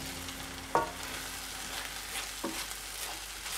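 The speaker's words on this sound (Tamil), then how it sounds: "பச்சை மிளகாவையும் தக்காளி வெங்காயத்தையும் நல்லா மிக்ஸ் பண்ணி விடுங்க." Tomatoes, onions and green chillies frying for egg gravy are stirred in a pan, a steady soft sizzle with a couple of light scraping knocks from the spoon, close and fairly quiet.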